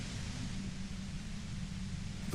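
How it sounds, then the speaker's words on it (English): Steady, dense white noise hisses without a break beside a compressor in the video game Disco Elysium, harsh and unchanging, with a low rumble underneath. "The violent white noise"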